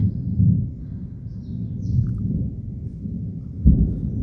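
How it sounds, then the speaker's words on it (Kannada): A low, rolling thunder rumble from a rainstorm near the Kamandala Ganapati temple at the source of the Brahmi river continues throughout at moderate distance, with a heavier thump near the end. "ತುಂಬ ಮಳೆ ಬರುವ ಹಾಗಿತ್ತು ಗುಡುಗು ಮಿಂಚು ಇತ್ತು ಹಾಗಾಗಿ ಆ ಸೌಂಡ್ ಇದರಲ್ಲಿ ಸ್ವಲ್ಪ ಸ್ವಲ್ಪ ಬಂದಿದೆ"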